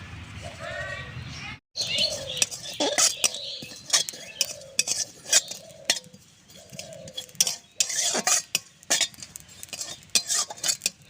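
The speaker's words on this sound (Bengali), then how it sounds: "রাঁধুনিটা একটু ভেজে নেব" Radhuni spice seeds being dry-fried in a pan for a village Bengali dish, with repeated sharp scraping and clinking of a spatula against metal in close, irregular bursts, and faint bird chirps in the background.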